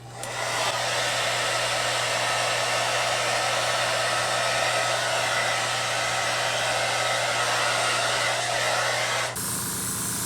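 A hair dryer blows steadily and loudly at close range to dry paint on a 3D-printed Batman figure, running alone with a constant hum, then its pitch shifts just before the end.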